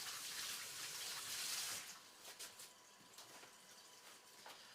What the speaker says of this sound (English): hold on, I'm gonna wash this chocolate off my fingers.